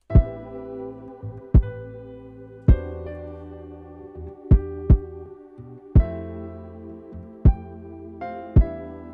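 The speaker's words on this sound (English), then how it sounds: "This is what it sounds like without the side chain." A slow electronic beat with heavy kick thumps and sustained bass and synth tones, no sidechain compression, the kick hits cutting through without any pumping or ducking of the other parts.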